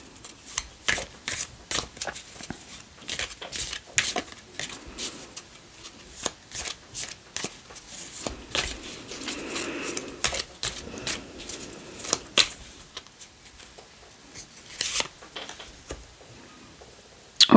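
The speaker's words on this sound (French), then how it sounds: "je prends le tarot" Tarot cards are shuffled by hand in a long, continuous run of crisp flicks and riffles, irregular and close, with no voices.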